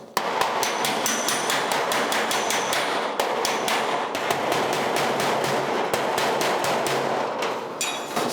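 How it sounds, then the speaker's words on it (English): Rapid, steady hammer blows ring out on the steel hood of a 1956 Chrysler 300 as a dent is worked against a dolly, loud, close and continuous with sharp metallic strikes throughout. "I'm hitting the dolly all the way through."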